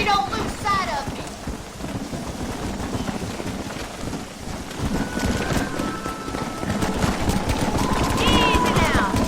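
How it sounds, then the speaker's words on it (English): Heavy rain hisses steadily and thunder rumbles low in a storm in the video game Red Dead Redemption, swelling louder toward the end, with faint game voices and sounds over the downpour. "We're not going to be able to hear each other in this rain."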